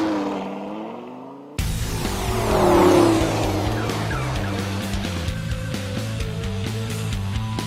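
A Lamborghini Gallardo LP560-4 with its V10 engine on a race track, roaring loud and close with a sudden surge into a sustained, harmonically rich engine howl that holds steady to the end.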